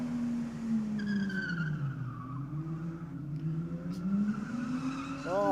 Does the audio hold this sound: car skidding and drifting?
yes